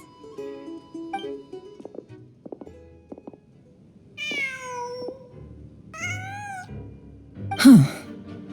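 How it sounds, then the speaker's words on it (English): A cat meows twice inside Genshin Impact, in a winter night scene, with clear rising-and-falling calls over quiet background game ambience, followed by a short sharp yowl near the end; no one talks. "Huh. Just a cat."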